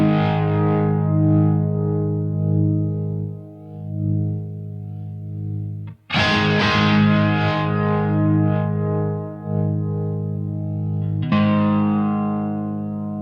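BOSS MD-200 modulation pedal in rotary Leslie-style mode with a blendable drive on a sustained, distorted guitar chord that swells and re-strikes with a swirling, wobbling modulation, played alone and up close.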